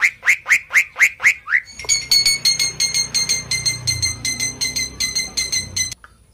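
A captive buffalo myna sings a run of six rhythmic, rising whistled notes, then a long, fast series of bright, clinking metallic notes at a steady pulse, loud and close, with no talk.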